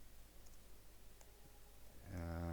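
A few faint, sparse clicks of typing on a computer keyboard, entering text into a LibreOffice document, are followed near the end by a voice starting to talk.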